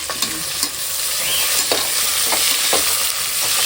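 Onions sautéing in a pan for a home biryani, a steady close sizzle broken by repeated scrapes and clinks of the stirring spoon, with no talking.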